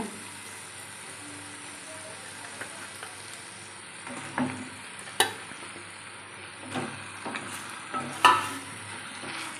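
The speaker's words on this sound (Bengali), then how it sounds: "এবার এই ভাজা মাছের মাথাগুলি দিয়ে দেব।" Fried fish heads go into a pan of cooked-down spice masala, bringing a soft, low sizzle with a few sharp clinks and scrapes from the spatula, fairly quiet and close.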